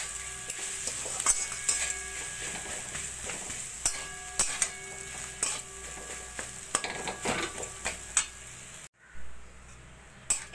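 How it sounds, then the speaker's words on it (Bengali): A ladle stirs mashed boiled potato with spices in a hot pan, making repeated close scraping strokes over a light sizzle, with no talk, until it cuts off briefly near the end. "এবার আলুটাকে এইভাবে নাড়া দিয়ে দিয়ে ভালো করে একদম শুকনো শুকনো করে নেব।"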